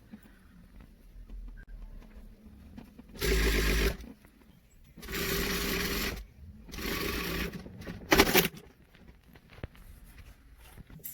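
Sewing machine stitching elastic into the waistband of straight-leg training trousers, running in four separate bursts of steady whirring with short pauses between, close and fairly loud, no talk.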